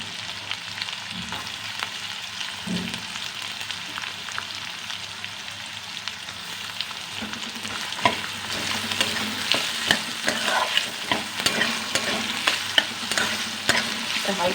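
Chopped onion hits hot oil for a Bengali mourola fish curry, a continuous close sizzle that swells louder toward the end, with scraping stir strokes and small ticks scattered through it and no voices.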